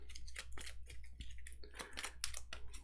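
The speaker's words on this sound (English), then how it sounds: "I need to shuffle this hit location deck" A hit location card deck for the board game Kingdom Death: Monster being shuffled by hand, heard as a series of quick, soft riffling and tapping bursts at close range, with no talking.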